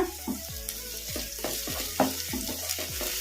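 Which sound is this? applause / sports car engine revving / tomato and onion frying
tomato and onion frying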